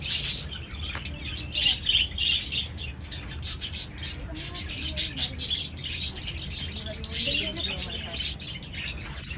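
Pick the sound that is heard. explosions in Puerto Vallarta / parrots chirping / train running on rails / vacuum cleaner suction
parrots chirping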